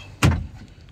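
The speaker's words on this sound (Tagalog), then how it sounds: "manual din ang kanyang pintuan" The manual door of a Suzuki DE64B minivan shuts with a single solid thud, close by and fairly loud, followed by a brief faint rattle as it settles.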